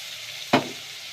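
Vegetables seasoned with salt and black pepper hit a hot pan in a single sharp sizzling burst that quickly fades to a soft hiss.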